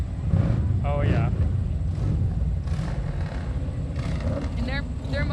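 Motorcycles in a Christmas parade in Joplin roll past with a low engine rumble that sits under close, steady conversation from onlookers.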